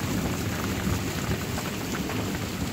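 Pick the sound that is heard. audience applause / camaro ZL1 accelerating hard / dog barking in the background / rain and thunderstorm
rain and thunderstorm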